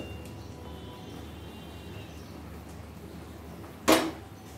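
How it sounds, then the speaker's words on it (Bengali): A lid is lifted off a kadai (wok) where mango, drumsticks and potato simmer: one sharp metallic clank near the end, after a quiet stretch of low kitchen background. "এবার কড়াইয়ের ঢাকাটা তুলে একটু দেখে নেব আম আর ডাঁটাগুলো কিরকম সেদ্ধ হয়েছে"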